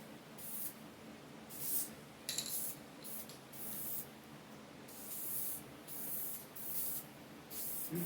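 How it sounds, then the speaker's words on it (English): A Supercolor spray paint can coats a Mustang SVT Cobra gauge bezel in a series of about ten short, hissing bursts separated by brief pauses, quiet and close with no talking. "Supercolor cans do not spray well at different angles."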